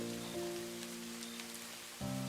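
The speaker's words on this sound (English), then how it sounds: "It had been raining all day." Steady rain hisses across the whole short stretch as a sound effect in a narrated ghost story, with a soft low musical drone beneath it.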